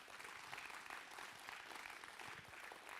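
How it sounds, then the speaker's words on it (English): Very faint applause for volunteers, a steady crowd clapping that sounds distant and muffled and runs continuously for a few seconds. "So please, a big applause for all our volunteers."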